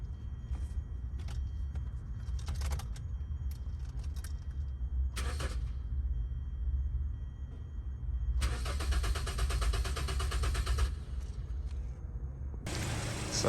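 Hyundai Sonata after a fuel pump replacement: keys jingle, then the starter cranks in several short tries and the engine catches, settling into a quiet idle.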